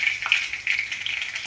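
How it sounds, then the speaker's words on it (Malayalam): Cumin seeds and two dried red chillies sizzling in hot sesame oil in a pan, a bright, steady close crackle with small popping spurts throughout. "ചട്ടി ചൂടാകുമ്പോൾ അതിൽ നല്ലെണ്ണ ഒഴിച്ച് അതിൽ 1 ടീസ്പൂൺ ജീരകം ഇട്ട് 2 വറ്റൽമുളകിട്ട്"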